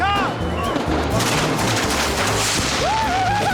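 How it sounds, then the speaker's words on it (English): Fireworks shoot off a frame worn on someone's head in Mexico, a rapid volley of crackling bangs and whistles close by, with excited voices mixed in. "they're just shooting fireworks off of it"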